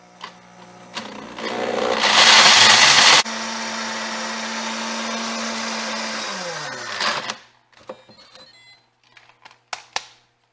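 Electric grinder milling dried mesquite pods into flour, a loud, harsh grinding roar up close that settles into a steady motor whine and then spins down, followed by scattered light knocks and taps.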